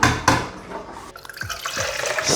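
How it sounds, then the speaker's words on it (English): Rinse water mixed with leftover vinegar is poured out of a Nespresso machine's container into a kitchen sink, a short splashing gush with a few drips, heard alone. "So I'll chuck this away now in the sink."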